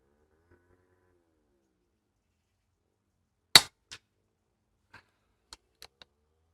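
Airgun fires a single sharp, moderately loud crack, followed by a few faint, brief clinks and ticks in a quiet setting.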